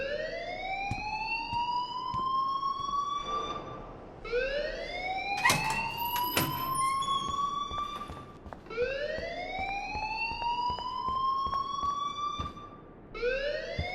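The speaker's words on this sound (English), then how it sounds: "please turn off that alarm since that's your job" A school fire alarm in the Life is Strange video game wails continuously, a loud rising siren sweep repeating every few seconds, with sharp clatters and bangs around the middle and no talk.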